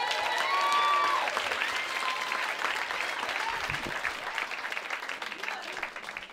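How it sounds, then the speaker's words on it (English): Audience applause and clapping for a comedian at the Village Underground comedy club, a dense steady roar of hands from a sizable crowd that slowly tapers, with a brief voice rising above it near the start. "And don't stop clapping."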